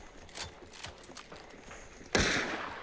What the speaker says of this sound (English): One up top shooting at me.